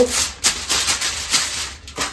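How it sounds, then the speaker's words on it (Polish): Aluminium foil is pulled out and pressed into a metal baking tray, giving a series of loud crinkling, rubbing swishes in quick irregular bursts, close up and with no talking. "Troszeczkę więcej folii aluminiowej. Wykładamy sobie blaszkę folią."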